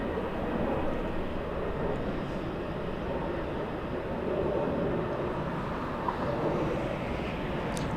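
An Emirates four-engine airliner departs Los Angeles International Airport: a steady, broad jet roar heard from a distance, holding even throughout with no talk.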